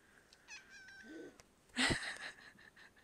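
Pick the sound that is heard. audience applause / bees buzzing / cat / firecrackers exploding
cat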